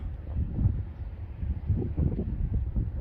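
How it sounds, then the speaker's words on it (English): Steady wind buffets the microphone on a breezy rock outcrop in Fuerteventura, producing a low, rumbling roar that swells and dips without pause. "it's a bit windy up here on this rock I'm standing on"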